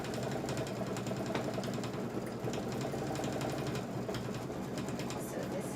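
A sewing machine stitches quilt pieces together in a steady, continuous fast mechanical whir, close and even throughout, with faint speech in the background.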